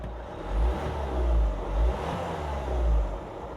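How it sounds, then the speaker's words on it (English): A car engine idles steadily during a first look at a TOPDON ONE LITE diagnostic scanner, a low even rumble with slight swells and no talk. "So now the engine's running."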